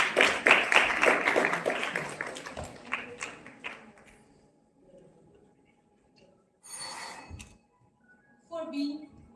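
An audience at an oratory contest breaks into a burst of dense clapping that fades out over about four seconds, then gives way to quiet and a few short stretches of speech.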